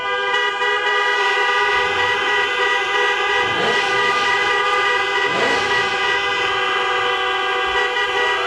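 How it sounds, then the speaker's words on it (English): Car horns honk together at a drive-in graduation celebration, a dense, steady chorus of sustained tones layered over one another, loud and continuous throughout, with no talking. "It is now time to honk those horns and launch those caps."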